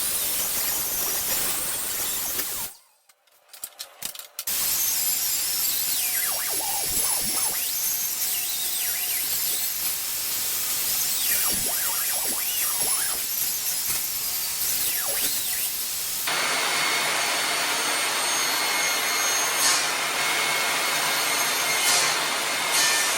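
Hand sawing through wood pieces to cut them in half during a DIY accent wall project, a long run of rhythmic rasping strokes, close and loud, with a brief pause early on and a shift in tone near the end.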